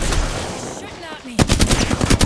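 Rapid automatic gunfire from Apex Legends, loud and close: a short stuttering burst, a brief lull with game effects, then a second run of sharp shots in quick succession.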